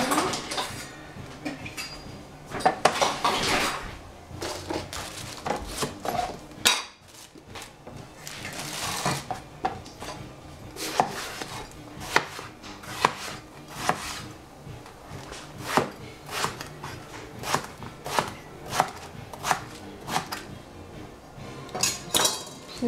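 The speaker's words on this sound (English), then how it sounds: "Cut the eggplant." A kitchen knife chopping eggplant on a cutting board, close and fairly loud, in uneven bursts of sharp knocks with brief pauses and a few clinks of dishes between them.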